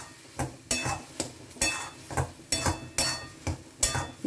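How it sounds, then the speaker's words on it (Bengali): A spoon stirs masoor dal and kalmi greens with sugar in a pot, making regular scraping strokes about twice a second over a low, steady cooking hiss. "খানিকক্ষণ একটু নাড়িয়ে নেব চিনিটা গলার পর্যন্ত"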